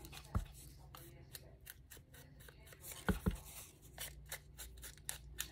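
Scissors snip through a junk mail paper envelope in a quiet room, a few sharp close cuts with soft rustling in between.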